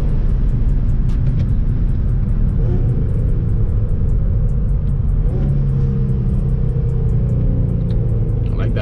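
Infiniti G35 coupe fitted with headers, engine rumbling steadily while driving with a rev-match blip on downshift, loud and close from inside the car, with road noise throughout.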